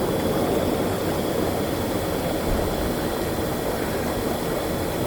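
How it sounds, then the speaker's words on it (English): A Purespa inflatable hot tub's pump runs with a steady, loud, droning hum and rushing airflow that holds even for the whole stretch, with no talking. "I'm going to run the pump just to show you how it's working."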